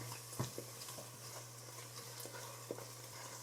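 Onions and garlic cooking down in a pot for French onion soup, giving a soft, steady sizzle with occasional stirring scrapes and light clicks, fairly quiet throughout with a low steady hum underneath.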